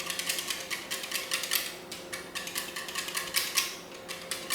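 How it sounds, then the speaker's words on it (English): Lime and lemon butter being lightly whisked in a bowl, a steady run of quick, soft scraping and clicking strokes repeating close up, fairly quiet and with no voices. "we just want to lightly whisk this in here"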